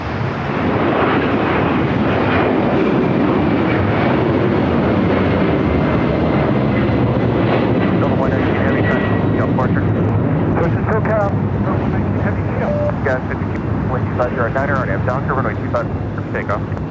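A jet airliner roaring through its takeoff run at LAX, a loud steady engine rumble lasting throughout with rising whine, while a person talks over it.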